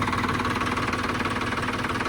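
A tractor diesel engine idles steadily nearby during wheat harvest work, a constant low throbbing rumble with no voices.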